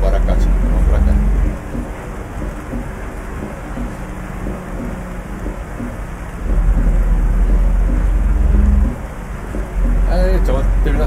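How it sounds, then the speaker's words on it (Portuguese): Loud, steady rain and rumbling thunder fill a Euro Truck Simulator 2 drive in a Mercedes Comil Invictus DD 8x2 bus, with low engine drone underneath and deeper rumbles swelling and fading twice. "Então, terminar com chuva."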